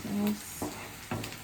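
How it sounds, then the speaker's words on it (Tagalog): Onions sauté in a pan with a soft, steady sizzle and a couple of brief stirring scrapes, while a voice speaks briefly over it. "nagisa na ako ng sibuyas"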